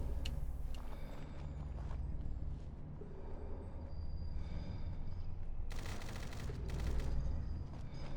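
Gunfire in the video game Fallout 4, a dense run of shots and bursts over a steady low rumble, with louder sharp volleys late in the clip and no talk.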